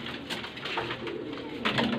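Soft, low pigeon coos murmur repeatedly close by over a faint background hum.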